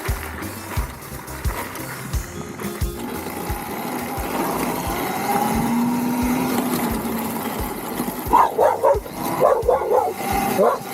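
On a ride through Mexico on a 32 kW HAVOC electric motorcycle, a dog chases and barks in a quick burst of sharp, close yelps near the end, over steady wind and motor noise.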